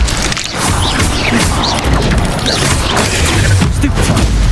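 A spell-casting battle in Hogwarts Legacy with the Incendio fire spell: a continuous loud roar of bursts, crackles and impacts layered with other combat effects, with no pause.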